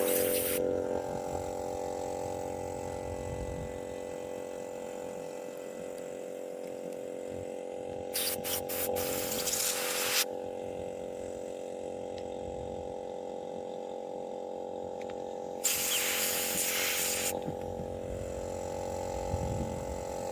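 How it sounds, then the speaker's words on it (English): Compressed air blows during maintenance on a Mercedes W126. Two loud hissing blasts of about two seconds each rise over a constant low mechanical hum, with no talking. "A little bit of compressed air."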